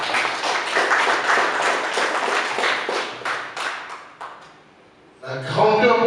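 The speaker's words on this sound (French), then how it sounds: "Est-ce que nous pouvons applaudir s'il vous plaît?" Audience applause at a French-language art exhibition opening, a dense burst of clapping that fades down over several seconds before a voice resumes speaking.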